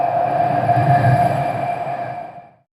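A subway train passing through a nearly empty station, loud steady rumble with a sustained tonal ring that fades away and cuts to silence near the end.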